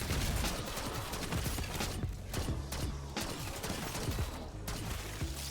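Gunfire in Black Ops 6 Zombies comes as a dense, continuous clatter of shots mixed with mechanical game noise, moderately loud and steady throughout.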